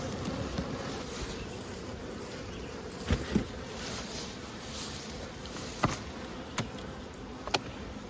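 Honey bees hum and buzz in a dense, steady drone around an open hive being fitted with a queen excluder and honey super, with a few soft knocks and clicks over the continuous swarm sound and no voices.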